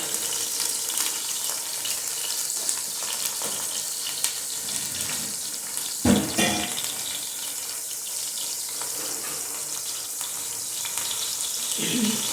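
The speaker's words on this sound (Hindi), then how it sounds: "चिकन को काट के साफ़ करके अच्छी तरीके से आपने धो लेना है।" Tap water runs steadily into a sink while cut chicken is washed for haleem, a continuous close hiss with small splashes and one louder clunk midway.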